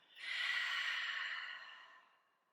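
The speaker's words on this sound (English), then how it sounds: "Open your mouth, exhale." A long, breathy exhale pushed out through an open mouth during a gentle chair yoga session, swelling quickly, then fading slowly over about two seconds, close and soft with no talking.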